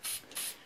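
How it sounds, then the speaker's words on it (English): A spray paint can used for lettering on a sign hisses in two short, close spurts separated by a brief pause. "if you kind of get used to how to use these spray cans"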